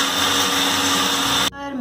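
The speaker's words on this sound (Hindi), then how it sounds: "हमें इन सबको ब्लेंड करना है।" Kitchen blender whirring through cold coffee with cocoa and caramel toppings, a loud steady high-pitched motor drone held close, then cutting off abruptly and spinning down in the last moments.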